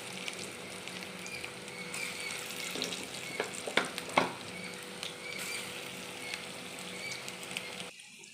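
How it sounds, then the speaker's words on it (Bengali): Mango vadas (bora) frying in hot oil in a kadai give a steady close sizzle with a few sharp clinks and spatters from turning them, ending abruptly; no talk. "বড়াগুলো ভেজে নেব।"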